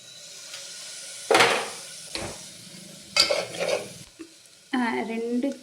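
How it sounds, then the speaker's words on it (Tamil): Masala with coriander, mint, chopped tomato and green chillies is stirred in a hot pan for chicken biryani, with several distinct bursts of scraping and sizzling separated by short quiet gaps, close and fairly faint. "இப்போ இதை போட்டு நம்ம நல்லா கலந்துக்கலாம்"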